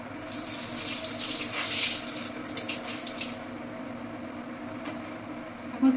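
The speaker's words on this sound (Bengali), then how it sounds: "যেমন কাজে দিদিটা আসবে না ওই জন্য কিছু বাসন ধুয়ে নিলাম।" Tap water runs steadily into a sink while dishes are washed at home, a continuous hiss that surges louder early on then settles, with a faint clink near the end and no talking.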